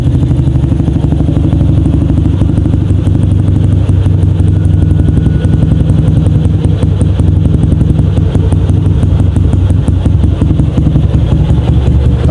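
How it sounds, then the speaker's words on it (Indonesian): A 2007 Yamaha Jupiter MX motorcycle, freshly tuned up, runs at a steady idle up close. The loud engine note has a constant, rapid mechanical clatter throughout. "Oke, jadi suaranya seperti ini teman-teman."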